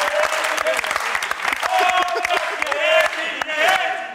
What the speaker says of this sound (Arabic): تصفيق على هادي زعيم هدهود